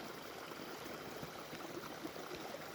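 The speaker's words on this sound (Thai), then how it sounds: "น้ำตกธรรมชาติ" A natural forest waterfall gives a faint, even rush of falling water, steady and unbroken, heard alone without any talking.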